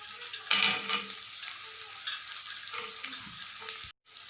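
Small shallot onions, cut in halves, sauté in a pan with a continuous close hiss and sizzle, marked by a louder burst of spatter early on and light stirring scrapes throughout.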